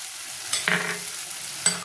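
Tomato, green chilli, turmeric and chilli powder masala with a little water is stirred in a frying pan for tangra fish curry, making a soft sizzle with a few brief scraping strokes over about two seconds.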